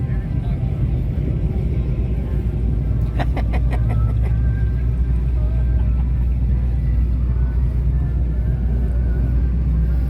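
A hot rod's 358 engine runs close by at a drag strip event, giving a loud, steady low rumble with a short burst of rapid ticking partway through; voices can be heard under the engine.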